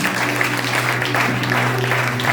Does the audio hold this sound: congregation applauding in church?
yes